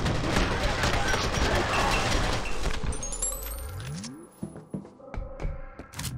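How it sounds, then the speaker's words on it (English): Slowed-down gunfire in the shooter F.E.A.R., a dense barrage of stretched, booming shots that drags into a falling warped whine, then a few isolated heavy thuds and ringing tones as the shooting fades. "when you shoot them in slow-mo"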